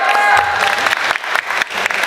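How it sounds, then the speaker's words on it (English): Seminar audience giving a round of applause, close and loud clapping with some cheering that runs for a couple of seconds. "So I just want to give Kat a big applause."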